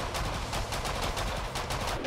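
Video game gunfire rattles in a rapid, dense burst of repeated shots, steady and fairly loud throughout, with no voices.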